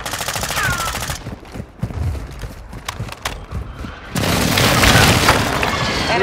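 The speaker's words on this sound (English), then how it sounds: "Hostile airstrike incoming." Airstrike blasts and gunfire in Modern Warfare 2 Resurgence on the Vondel map: rapid close shots at first, then scattered heavy thuds and pops, ending in a loud sustained roar of explosions.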